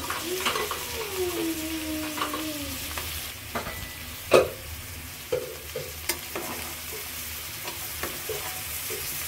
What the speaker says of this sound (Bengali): কষানো হয়ে গেছে, এখন এই যে সবজিটা দিয়ে দিব।